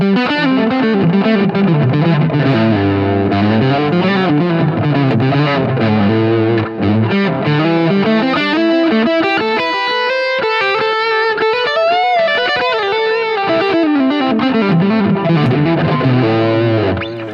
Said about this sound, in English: I'm going to add a little bit of distortion to my guitar